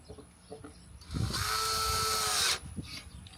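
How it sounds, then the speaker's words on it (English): Power drill driving a screw to mount a power inlet on the side of a cargo trailer: one sustained high whine of about a second and a half, close and loud, framed by light taps and handling noise. "I just put in the last screw here to secure it to the side of the cargo"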